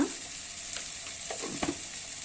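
Spices and chili powder fry in a pan with a steady close sizzle, broken by a few brief stirring scrapes and crackles partway through.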